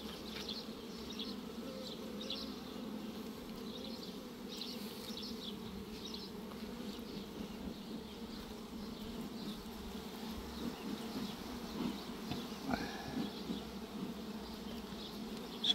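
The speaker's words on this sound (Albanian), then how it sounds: "bletët e reja kanë dalë" Honey bees hum continuously over a hive frame holding newly emerged young bees, a dense, close, steady buzz of many insects with slight swells and no voices.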